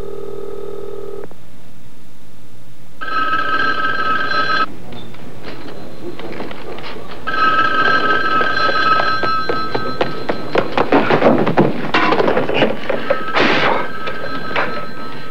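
A telephone rings in repeated loud electronic bursts separated by short pauses, standing alone in a quiet room.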